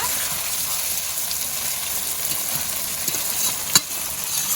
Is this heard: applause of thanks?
no